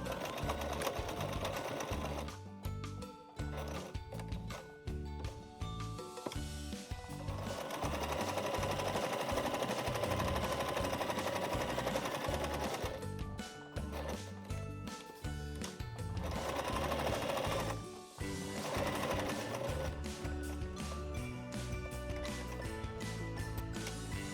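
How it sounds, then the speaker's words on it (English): A sewing machine runs a half-inch seam around fabric with fold-over elastic for a notebook pen holder, a loud, steady mechanical whir with a few brief pauses and restarts, close and alone. "sew all the way around this with a 1/2 inch seam allowance, but leaving a turning gap around that fold over elastic"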